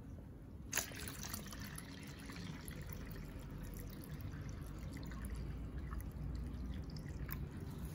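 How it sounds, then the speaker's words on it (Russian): Distilled water is poured into a reflector-restoration mixture, a soft steady trickle of liquid running continuously after a single small knock, with no talk. "То есть нам надо добавить 800 мл воды."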